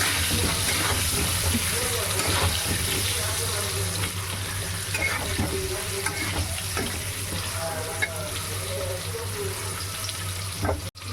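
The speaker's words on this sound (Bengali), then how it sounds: "তেলে এবার আমি আলুগুলো ভেজে নেব" Potatoes fry in hot oil in a home kitchen, a steady broadband sizzle and crackle running continuously and fairly loud, with faint clinks of stirring now and then.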